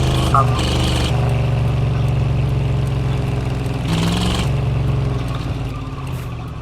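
A car engine in the driving game Drive Beyond Horizons runs with a steady, even hum, swelling briefly around the middle as if lightly revved, then settling back to a smooth idle.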